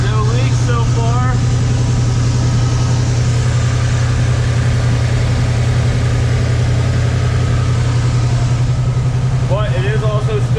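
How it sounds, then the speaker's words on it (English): A car engine idles steadily while warming up on a vehicle with a TH350 Turbo transmission, a loud, even low rumble that runs throughout, with short bursts of voice near the start and end. "All right, motor's running."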